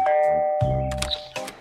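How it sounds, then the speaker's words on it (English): A ukulele-shaped doorbell in the space adventure game Dexter Stardust rings with a clear two-tone ding-dong, the first chime sustained and the second following bright and close, alone without talk. "It's a doorbell shaped like a ukulele."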